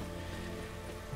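Steady rain falls in The Witcher 3: Wild Hunt, a dense, even hiss that stays constant and fairly loud throughout, with no voices over it.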